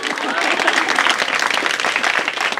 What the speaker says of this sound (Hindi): हाँ ताली बजा दो भाई